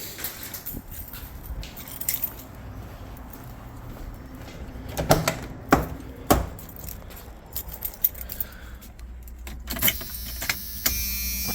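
Car keys jangle and clink in short bursts near a Jeep Cherokee during fuel rail work, with sharp metallic rattles clustered midway and a steadier clatter toward the end.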